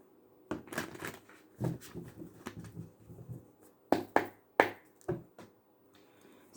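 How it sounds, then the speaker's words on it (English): A tarot deck being shuffled by hand gives sharp riffling flutters and taps in irregular bursts, close and dry, with quiet gaps between and no speech. "One more shuffle."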